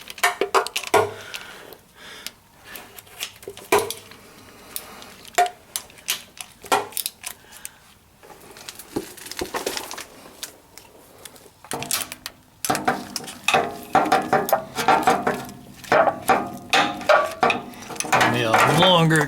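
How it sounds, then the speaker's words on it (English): A ratchet loosening bolts on a 1947 Packard during an oil change, rapid clicking pawl bursts in irregular runs with metallic clanks and tool handling, close and busy, without speech. "Let's go and loosen these all up here."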